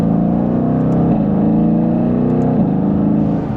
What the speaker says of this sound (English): Oh, just a mild acceleration.